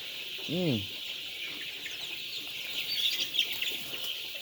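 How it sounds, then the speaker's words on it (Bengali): A Sonali chicken lets out a short clucking call near the start as the chickens run around, then faint bird chirps and outdoor ambience continue. "দেখেন মুরগিগুলো দৌড়াদৌড়ি করতেছে"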